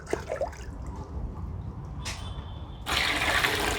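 Water is poured into a can for preparing a hydroponic nutrient solution, a low trickle at first, then a louder, steady rushing pour near the close, with no voices.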